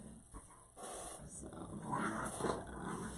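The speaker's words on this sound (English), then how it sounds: "Hey, dogs, stop it. You think it's time to play, I guess." Dogs growling and playfully scuffling indoors, low rumbling growls and bursts of activity rising and falling near the listener over a few seconds, with faint background hum.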